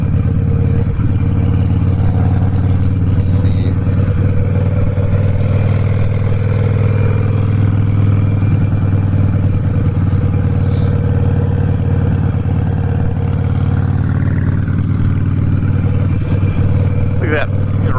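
A fuel-injected motorcycle engine drones steadily while being ridden, rolling the throttle on and off with mild rises and dips in tone over constant wind and road noise. A voice is faintly present underneath.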